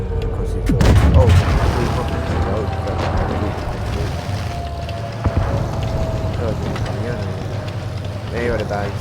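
In World of Tanks Blitz, an enemy shell strikes the T26E4 tank with a heavy boom, followed by a steady engine rumble and crackling battle noise. A person talks over the action.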